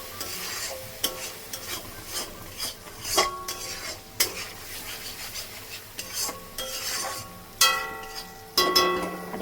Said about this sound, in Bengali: মশলাটা কষানো হয়ে গেছে, আলুগুলো দিয়ে দেব।